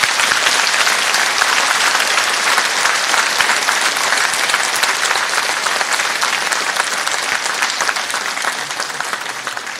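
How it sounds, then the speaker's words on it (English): A large audience at a school Veterans Day program applauds loudly and steadily for an Air Force veteran being introduced, a dense wash of clapping that holds for the full length and fades only slightly at the end. "Big hand clap for Tom."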